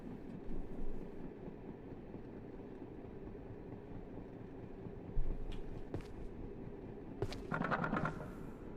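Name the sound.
train moving in a video game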